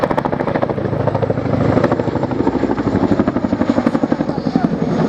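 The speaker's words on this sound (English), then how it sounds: "Chinook display captain this year is Flight Lieutenant Andy Smith" A Chinook helicopter flies an airshow display at Biggin Hill, its loud rhythmic rotor thudding close and steady throughout, with the pulsing beat strengthening partway through.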